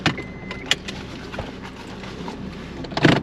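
A 2004 Honda Accord LX with 221k miles idles just after starting, a low steady engine hum inside the car with a few nearby clicks and key jingles, no talking.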